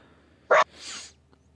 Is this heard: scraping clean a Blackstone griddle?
no